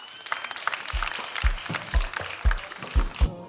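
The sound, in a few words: audience applause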